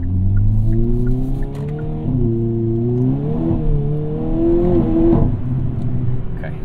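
A Hyundai Kona N with a DCT gearbox revs and holds steady at high pitch, with a few faint crackling exhaust pops over the continuous growl.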